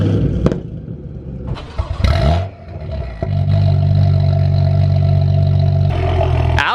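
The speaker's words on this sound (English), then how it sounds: "Alex's M2 is actually frighteningly loud." A BMW M2 engine runs loud and close, a sustained low roar with a steady idle-like rumble that swells after a brief pause, with rev blips and clatter early on.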